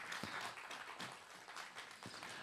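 An audience applauding at a documentary screening Q&A, a dense, even wash of many hands clapping that carries on steadily throughout, heard at a distance and fairly faint.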